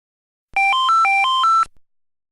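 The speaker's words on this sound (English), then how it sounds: "Your telephone is ringing." An electronic telephone signal from a training simulation program sounds as a quick run of about six clean, alternating beep tones lasting roughly a second, alone and fairly loud, then silence.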